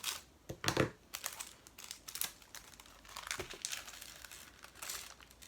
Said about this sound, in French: Le deuxième sachet, je vais tous les ouvrir, mais je vais pas les mélanger.